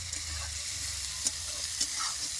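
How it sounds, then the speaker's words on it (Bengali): Spice masala for a paneer and cauliflower curry sizzles steadily in oil in a pan, with a few sharp scraping clicks as a spoon stirs it; no one speaks. "এইভাবে আপনারাও ভালো করে কষিয়ে নেবেন মশলাটা"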